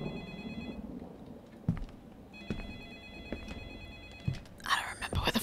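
Telephone ringing inside the horror video game Nightmare Within, a repeating electronic ring in steady bursts under quiet ambience, with thuds and a brief voice near the end.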